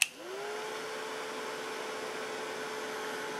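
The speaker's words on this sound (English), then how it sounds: "I'm going to heat that a little bit." A heat tool blows a steady, even rush of air over wood misted with Glimmer Mist, starting with a brief click and then holding at a constant close-up whoosh with no talking.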